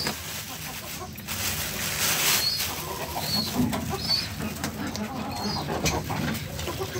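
Chickens cluck and murmur intermittently in a noisy outdoor setting while waiting to be fed, with scattered faint bird calls.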